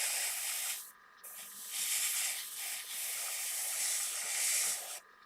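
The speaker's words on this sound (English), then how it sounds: "Spraying at about 8 psi." An airbrush sprays paint onto the spoiler of an Aoshima 1/24 Knight Rider model car at low pressure, giving a steady close hiss in long bursts with brief pauses between them.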